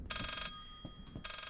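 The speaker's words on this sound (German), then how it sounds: "Da steht das Telefon." A telephone rings in the horror video game Layers of Fear, two bursts of bright electronic trilling with a short gap between them, faint and alone.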